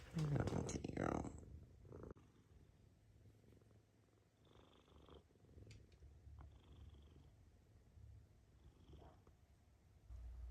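A cat purrs softly and steadily, a low continuous rumble that lasts throughout and stays faint and close, with a person talking briefly at the start.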